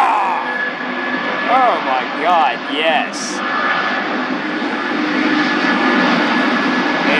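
A jet airliner makes its takeoff roll on a snowy runway at Atlanta, and the engines build to a loud, spray-laden roar that swells and holds. Excited voices speak briefly over the noise.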